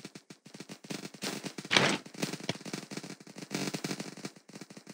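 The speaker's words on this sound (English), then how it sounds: "I have this sniper, very own sniper rifle." Sniper rifle fire rattles in a Roblox airsoft combat game, a fast run of sharp cracks at moderate level with one heavier blast early on, and no voices.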